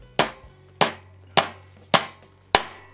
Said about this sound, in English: Do the cut little taps. Rattle taps.